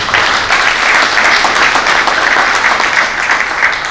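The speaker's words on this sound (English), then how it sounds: "a big round of applause for" Loud, dense audience applause at the concluding session of a conference, an even, sustained wash of many hands clapping close by with no talk over it.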